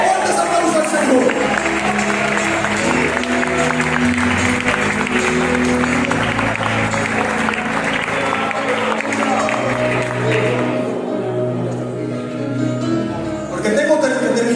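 A church congregation applauds in praise to God during a sermon, a sustained wash of many hands clapping that stays steady and fairly loud, with a sung or spoken voice faintly carrying underneath before it thins near the end.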